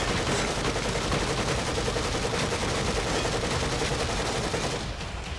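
Rapid, dense gunfire in the horror game The Evil Within, loud and continuous, cutting off abruptly near the end.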